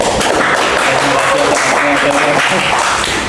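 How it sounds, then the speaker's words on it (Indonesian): Vocational school students in a classroom applaud with loud, dense, rapid clapping that runs throughout, mixed with chatter and voices. "Tepuk tangan dulu."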